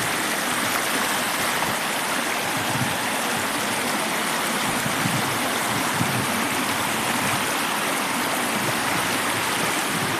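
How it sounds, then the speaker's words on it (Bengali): Clear mountain runoff rushes along a roadside in Mahdah, Al Buraimi, Oman, a loud, steady, unbroken broadband roar of flowing water. "এগুলো পানিগুলো অনেক দূর থেকে আসতেছে, পাহাড়ের পানিগুলো।"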